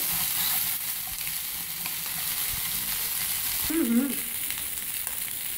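Fish heads frying in oil in a pan, a steady close hiss and sizzle with a brief stirring movement near the middle, no one talking.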